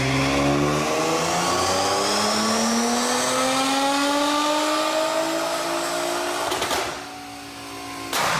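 Tuned 2015 Nissan GT-R running E70 fuel and making over 750 hp, accelerating hard from inside the cabin, engine pitch climbing steadily through a loud gear, then a sharp shift and a brief dip.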